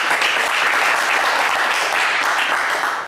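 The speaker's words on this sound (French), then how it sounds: "on vous applaudit également très fort" Steady, dense applause from a television game-show studio audience, loud and continuous throughout with no pauses.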